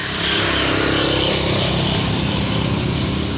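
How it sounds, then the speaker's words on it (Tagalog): Vehicles and traffic roar past on a busy roadside under shade trees, a continuous loud rumble of engines, with motorcycles and cars blending into a steady wash of noise. "maingay po yung mga sasakyan"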